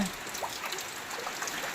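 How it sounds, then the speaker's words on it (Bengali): Heavy rain pours down steadily during a power cut, an even, hissing wash of drops with faint trickling water, continuous and fairly close, no voices. "এই দেখুন সমানে বৃষ্টি হচ্ছে"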